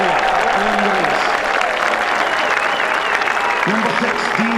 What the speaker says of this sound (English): Come on, give him a wee cheer.